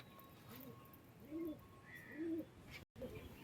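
Pigeons kept for flying coo softly in a few low, rounded calls, faint and close, over a quiet background hum.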